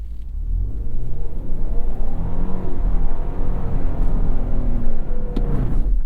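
A 2024 Lexus GX engine revs hard while the SUV churns off-road through sand, a loud, close, continuous rumbling roar with rising and falling pitch as it accelerates and strains for traction.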